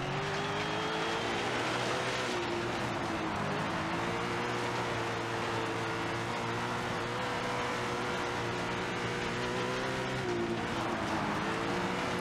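Race cars in the SRX racing video game roar off at the start of a race on the Knoxville track, a dense, steady engine drone with layered revving tones rising and shifting throughout, loud and continuous.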